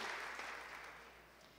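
Congregation applause at a church worship service, a steady broad wash of clapping that holds throughout and slowly fades, fairly quiet and heard alone without talk.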